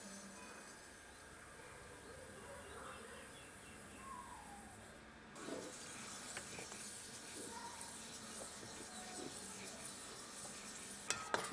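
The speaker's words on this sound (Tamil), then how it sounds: "நான் 1/4 கிலோ வெள்ளை எள்ளு எடுத்துருக்கேன், அதை போட்டு வறுத்துக்கலாம்." A quarter kilo of white sesame seeds dry-roasting and being stirred in a heavy-bottomed kadai for idli podi: a faint, steady hiss and shuffle with soft scraping, a few sharper clinks near the end.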